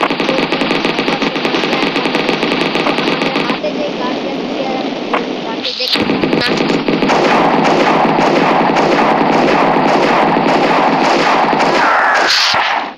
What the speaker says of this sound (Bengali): দেখতে পাচ্ছেন গুলি করলো